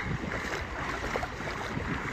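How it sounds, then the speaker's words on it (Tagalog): Strong wind roars steadily across the microphone at a crab-catching spot, a broad continuous rush with water sloshing beneath it. "Sobrang lakas ng hangin."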